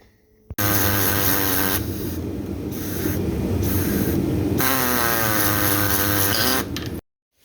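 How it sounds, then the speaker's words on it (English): A body saw cuts into an oil filter on a 1991 Camaro Z28 oil cooler, giving a loud, steady, close buzzing rasp that runs several seconds with brief dips in pitch, then stops abruptly. "So I had to take a body saw. I'm going to cut this out"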